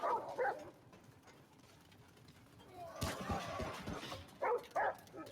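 Dog barking in the video game Remnant: From the Ashes, two short sharp barks near the end, standing out over a busy stretch of game noise and movement sounds.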